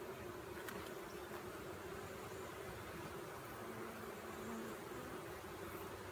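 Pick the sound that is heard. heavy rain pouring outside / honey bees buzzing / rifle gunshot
honey bees buzzing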